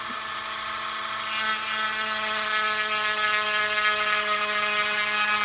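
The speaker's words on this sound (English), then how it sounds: "scraping away the plastic." A Dremel rotary tool whines steadily up close while scraping away plastic on an airplane model, its high motor tone holding level and growing slightly louder as the bit bites in.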